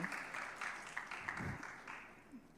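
Applause from a conference audience in Canada after a lunchtime performance, steady clapping that sounds distant and faint in a hall, gradually fading toward the end.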